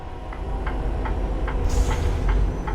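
Train passing in American Truck Simulator, a low rumbling roll with regular clicking wheel beats every third of a second, heard steadily at moderate distance with no talk.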